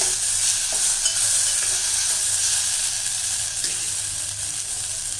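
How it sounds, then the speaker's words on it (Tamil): Tamarind water for garlic rasam hits a hot pan with a steady hissing sizzle, broken by a few soft stirring clinks. "இந்த கரைச்சி வச்சிருக்கிற புளி தண்ணியை விட்டுடலாம்"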